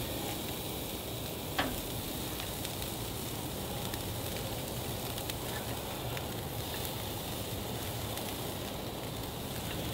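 Ground bison slider patties sizzle on a grill, a steady, close crackle and hiss that carries on evenly throughout with one small clack near the start and no talking.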